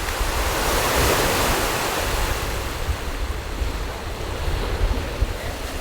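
Sea waves wash onto the seashore under strong wind, a loud, steady broadband roar of surf with wind buffeting the microphone, no voices heard.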